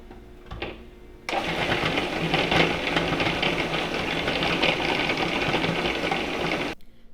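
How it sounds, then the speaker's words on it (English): Zucchini being grated in a food processor for zucchini bread, a loud steady motor whir with rough grinding texture, starting abruptly after a brief quiet knock and running continuously for several seconds before stopping. "Now I have a food processor here, but you can also hand grate it with a grater yourself."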